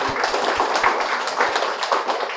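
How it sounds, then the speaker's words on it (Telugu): An audience at a one-day workshop in Hyderabad claps steadily, a dense, fairly loud patter of many hands throughout with a few stronger individual claps. "చప్పట్లు కొట్టండి."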